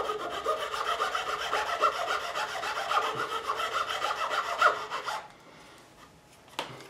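A file rubs back and forth in quick, steady strokes, taking excess material off a guitar nut during a Stratocaster setup; close and fairly loud for about five seconds, then it stops and near silence follows.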